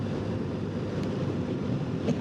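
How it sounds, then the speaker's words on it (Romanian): Strong wind blows in Russia, producing a steady, loud broadband roar and buffeting that continues unbroken throughout, with no voices. "Da, bate un vânt foarte mare."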